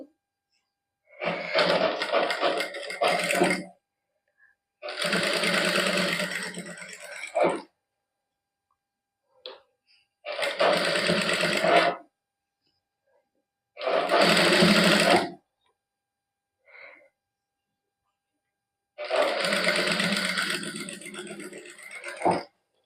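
Sewing machine stitching gota patti lace onto fabric for a sleeve design, running in five separate bursts of a few seconds each with quiet pauses between, close and steady.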